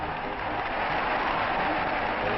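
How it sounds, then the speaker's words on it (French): Spectators applauding at a 1938 World Cup football match in France, a continuous broad wash of crowd clapping heard at a distance on an old, muffled archival recording. "Les spectateurs applaudissent les Français dont la victoire ne fait déjà plus de doute."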